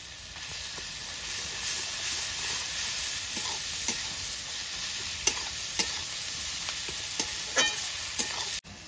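Onion with a pinch of salt and garlic paste fries in a pan for pav bhaji, a constant hissing sizzle with occasional sharp spatula taps and scrapes, heard close.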